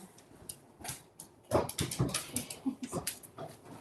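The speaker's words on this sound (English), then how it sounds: "My dog is squeaking" A dog squeaks and whimpers close by in a run of short high yips and whines, quiet at first and then more insistent.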